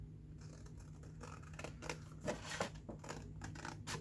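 Scissors cut through cardstock, giving a faint, steady crunch of snips up close, with no talk.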